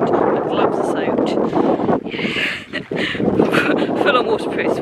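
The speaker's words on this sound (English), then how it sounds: "It's still very windy, but the rain seems to have stopped for now." Strong wind buffets the microphone on a wet volcano hike through an Icelandic lava field, a loud, gusting roar that drops briefly before surging again.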